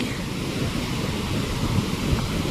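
Big, rough sea waves keep rolling in, a dense, steady roar of surf mixed with wind buffeting the microphone, loud and continuous with no voices.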